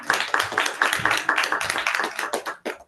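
A small audience at a diversity and inclusion conference claps to welcome a speaker, a sparse run of distinct, fairly rhythmic hand claps that thins out and fades over about three seconds.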